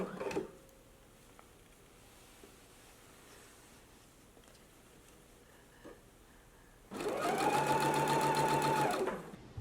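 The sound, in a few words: sewing machine stitching gingham dress neckline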